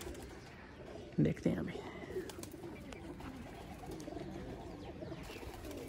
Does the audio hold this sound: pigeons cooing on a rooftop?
yes